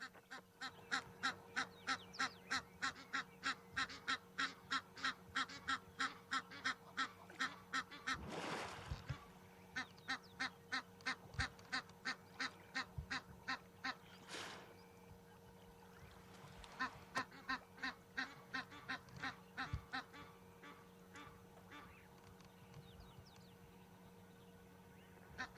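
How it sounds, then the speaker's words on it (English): Egyptian geese honk in long, rapid series of repeated calls at a safari site at sunrise, moderately distant, pausing briefly before resuming against faint background sound. "Those noisy Egyptian geese at the back."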